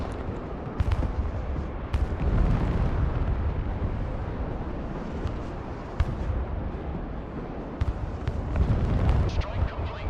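Bombing strike on a forest in the Broken Arrow video game, a dense, continuous rumble of explosions with sharp cracks and booms repeating throughout, loud and sustained.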